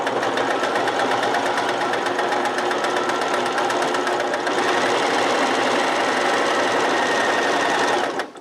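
A sewing machine running continuously at high revs while stitching through thick vinyl, a dense steady mechanical whir with rapid needle chatter, loud and close, cutting off abruptly at the end.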